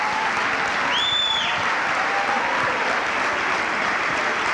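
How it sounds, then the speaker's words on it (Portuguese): A congregation at an evangelical church service in Brasília claps continuously, a dense, steady wash of applause with a few cheers and voices faintly mixed in. "aplaude o nome de Jesus com alegria"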